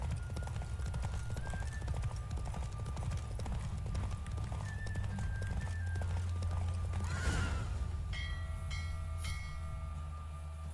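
A horse gallops in a race in the video game The Witcher 3, a steady rapid clip-clop of hooves under game music, with a whoosh and chime-like tones near the end.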